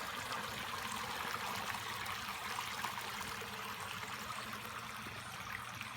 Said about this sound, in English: It's got a little waterfall, flows into the stream, drops into the pond.